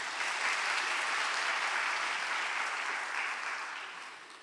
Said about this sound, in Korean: 우리 박수 한번 주실래요?